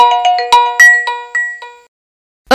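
A phone rings with a bright chime ringtone: a quick run of bell-like ding tones that sound loud and close, then fade into a short silence before another tone begins right at the end.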